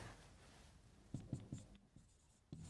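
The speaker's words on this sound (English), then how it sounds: "So I can write down" Pen writing out an equation for the thickness of a thin disc during a physics lesson on measuring very small distances, a run of short soft scratching strokes in quick succession, close and quiet, with no talking.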